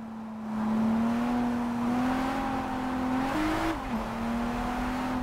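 A car in JDM: Rise of the Scorpion drives along with a steady engine drone that climbs in pitch and briefly revs higher before settling back, fairly quiet and with no voices.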